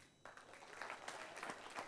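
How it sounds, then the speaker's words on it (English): Applause from an audience at a national HR convention and expo in the Maldives, a steady wash of clapping that starts abruptly after a brief quiet moment and holds at moderate loudness. "Let's give a round of applause"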